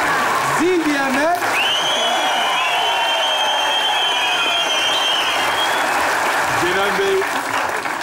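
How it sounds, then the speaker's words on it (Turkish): Steady applause from a crowd fills the whole stretch, loud and continuous, with a voice talking over it at times. "Alkışlarla zile gidiyor."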